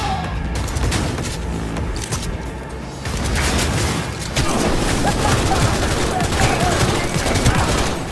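Heavy gunfire and explosions in Cyberpunk 2077 combat, with dense bursts of shots and booming blasts layered loudly over each other without a pause, building in intensity toward the end.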